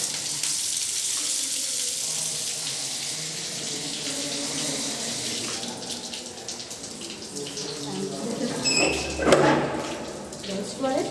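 Water streams steadily from a row of drinking water taps in a school washing area, a constant hissing flow with a brief splash and clatter near the end and some voices in the background.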